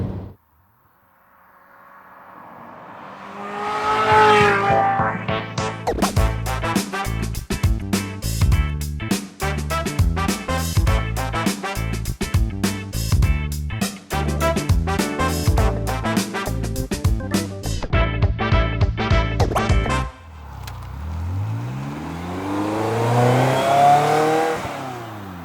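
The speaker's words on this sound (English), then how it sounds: "enjoy the sights, sounds, and the story of this Ferrari" A high-revving Ferrari F355 engine roars, climbing and dropping through rapid rev bursts, loud and close, with a whooshing pass at the end.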